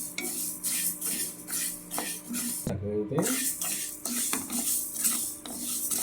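Cumin and coriander seeds dry-roast in a pan, with a light sizzle under repeated metallic scraping and stirring strokes against the pan, close and fairly loud, with no talking.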